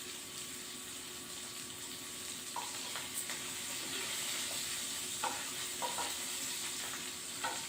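Tempering spices sizzle in hot oil, a soft steady crackle and hiss with a few sharp pops and spits scattered through, quiet and close with no talk.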